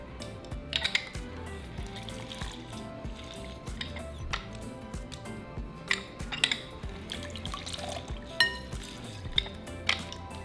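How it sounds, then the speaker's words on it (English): Four limes squeezed by hand produce wet squishes and drips at close range, coming in irregular bursts amid faint kitchen clatter with no talking. "We're going to squeeze out our 4 limes"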